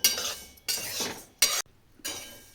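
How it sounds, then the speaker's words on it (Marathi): Sesame seeds roast dry in a pan, heard as four short bursts of gritty rattling and scraping as they are stirred, with near-silent pauses between. "तीळ आता भाजले चांगले."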